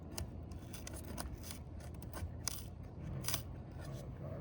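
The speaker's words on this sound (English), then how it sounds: "We're going to break it gently to try to avoid mat transfer and tearing." The sealed strip of an asphalt roofing shingle is pried loose during a repair, giving faint, close crackling and tearing snaps in short irregular bursts over quiet background noise.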